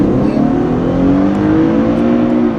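2013 Infiniti FX37 SUV accelerating hard from 0 to 60 mph, a loud, steady high-revving engine roar heard from inside the cabin, climbing in pitch throughout, with no talking.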